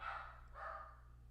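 Excited dogs giving two short barks in quick succession, faint and somewhat distant indoors over a low steady hum.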